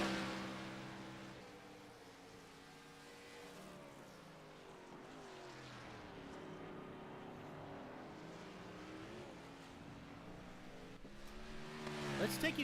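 Race cars circle the Montreal circuit in a sim racing video game. Engines whine faintly and waver through shifts, with the pitch rising and falling at a moderate distance under a commentator's voice.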